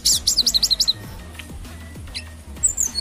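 Songbirds such as cucak ijo from Banyuwangi, East Java, kept at a bird gathering in Surabaya, give a quick run of sharp, high chirps, followed by scattered fainter tweets against low background noise.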